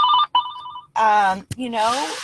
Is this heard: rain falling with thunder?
no